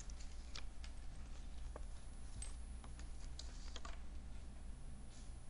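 Keys tapped on a computer keyboard while entering text in CAD software, heard as faint, irregular clicks over a steady low background hum, with no voices.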